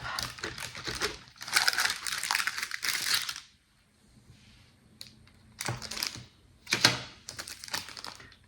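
A knife cuts through a slab of chocolate peppermint fudge in bursts of crisp scraping and crunching, several separate strokes with short quiet gaps between them, close and fairly soft, no talking.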